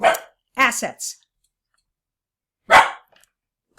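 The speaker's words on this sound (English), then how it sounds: "Sorry about the barking dog." A dog barks sharply indoors, several quick barks in a cluster followed after a pause by another single bark, with a brief spoken word at the end.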